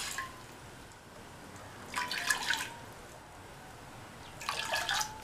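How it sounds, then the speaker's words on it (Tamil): Water is poured into a cooking pot while making mung dal and beaten rice payasam, heard as two short splashing bursts of pouring separated by quiet, close and moderately loud. "இந்த பாத்திரத்தில் 1/2 கப் தண்ணி சேர்த்துக்கலாம்."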